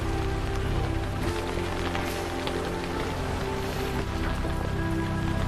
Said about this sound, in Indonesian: Tiba-tiba terdengar suara hujan turun.